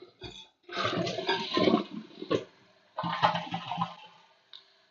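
A household toilet fitted with a 1.28 gallon per flush flapper flushes with a loud, close rush of swirling water that surges, briefly ebbs, surges again and then trails off into quiet.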